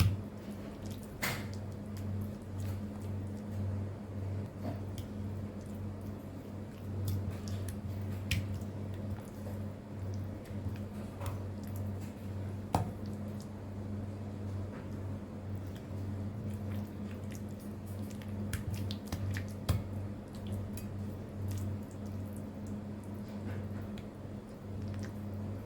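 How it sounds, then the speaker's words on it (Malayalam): Chili masala paste is worked by hand onto pieces of fish, giving soft, intermittent wet squishes and light slaps, faint and close over a steady low background hum, with no talking. "ഇനി നമുക്ക് നമുക്ക് ഓരോ മീൻ ഇട്ടിട്ട് മീനിലേക്ക് നല്ലോണം മുളക് മസാല പുരട്ടിയിട്ടെടുക്കാം"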